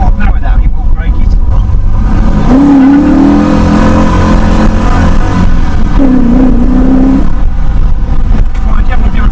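A 270bhp Triumph Toledo V8 car roars loudly and continuously, its engine note rising in pitch during two separate pushes of acceleration, while people talk over it.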